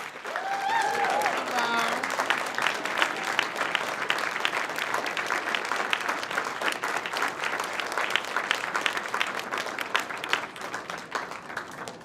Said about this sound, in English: Let's give an enthusiastic applause